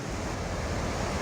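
Rushing floodwater after heavy rain, a dense, steady roar of fast-flowing water with no breaks, loud and close.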